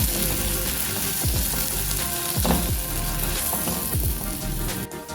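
Masala with Kashmiri chilli and salt frying in a pan for prawn curry, a steady loud sizzle with faint stirring scrapes throughout.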